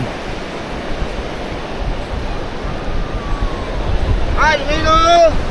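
Ocean surf at Praia dos Ingleses beach in Florianópolis makes a constant broad wash that swells slightly toward the end, with a brief whistling tone cutting in near the close.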